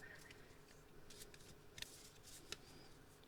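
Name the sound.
shuffling tarot cards by hand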